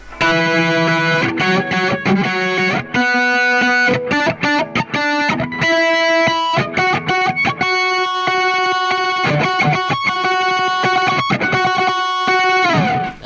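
An electric guitar sounds a run of sustained, distorted notes picked on the first and second strings, loud and continuous with effects coloring the tone.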